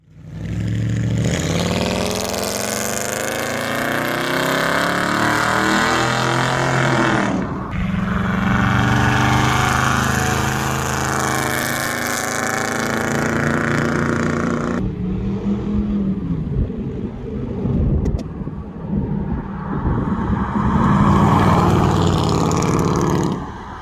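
A Crown Victoria fitted with a cheap poor man's exhaust 2.0 revs loudly and close, with rising throaty pulls cut by short pauses and a lower burbling idle in between.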